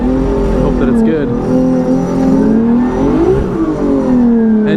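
A BMW E36 drift car at Formula Drift Seattle roars loudly at close range, its engine holding a steady, buzzy drone with rising and falling revs.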